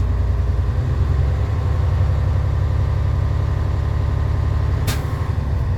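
A truck's diesel engine idles steadily with a low, even rumble, then the air brake governor cuts out with a short, sharp hiss of released air near the end.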